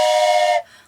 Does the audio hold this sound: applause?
no